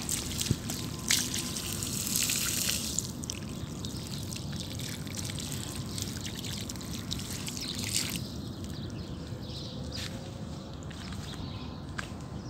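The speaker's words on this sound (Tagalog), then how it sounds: "Pinapadaluyan ko ng tubig." Water trickles and pours onto garden plants such as young okra, a steady soft splashing flow with small drips and occasional footsteps, fairly close and alone without talk.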